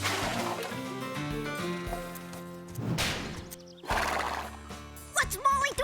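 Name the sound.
horse neighing and hooves clip-clopping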